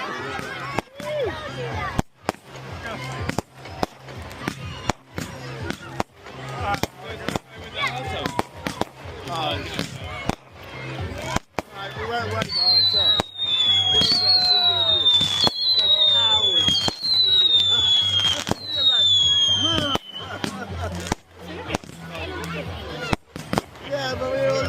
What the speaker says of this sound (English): There's still some more fireworks coming.